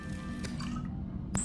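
A brief wet, dripping squish plays as water is crafted in the underwater survival game Subnautica, heard over a steady low background hum.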